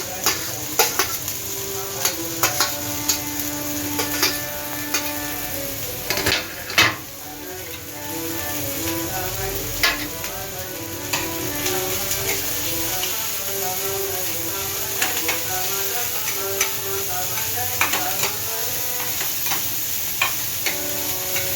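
Onion and garlic fry in a pan with a steady sizzle, while a utensil stirs them in frequent light scrapes and taps against the metal throughout.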